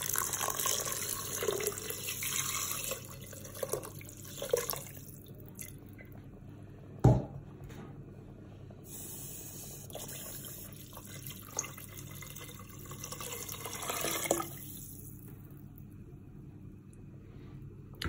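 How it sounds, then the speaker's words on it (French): Water poured into a Cookeo multicooker pot of Moroccan harira soup, a soft, quiet trickle and splash with a single sharp knock partway through and a low background hum. "Donc je vais rajouter un petit peu d'eau."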